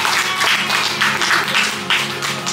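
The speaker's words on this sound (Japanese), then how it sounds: "チョロちゃんにも大きな拍手" Applause at a surprise birthday party, a short burst of clapping from a small group, loud and close, without talk.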